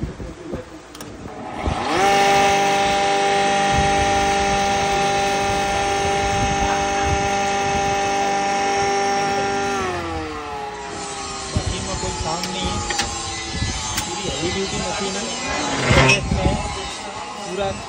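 A 2HP multipurpose aata chakki flour mill starts up and runs with a loud steady motor hum, then winds down with falling pitch as clattering and voices follow.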